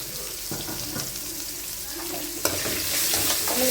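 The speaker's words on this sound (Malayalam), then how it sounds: "നമ്മൾ നന്നായി ഒന്ന് ഇളക്കിയെടുക്കാം" Sliced onions and vegetables sizzle in a pan while being stirred for a pumpkin and bean thoran, with scraping utensil strokes over a steady fry that grows louder near the end, close up and without speech.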